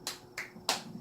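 During a Buddhist dharma talk at a Chuseok holiday service, one person claps alone, three sharp separate claps spaced evenly in a quiet room.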